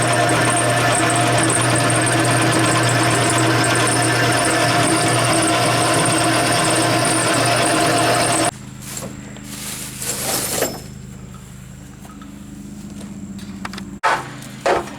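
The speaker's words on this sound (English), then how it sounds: "He's actually drilling the holes right now." Drill boring mounting holes for a fourth-generation Ram rear bumper being fitted to a second-generation Ram truck, a steady mechanical whir for about eight seconds, then quieter workshop noise with brief sharp bursts.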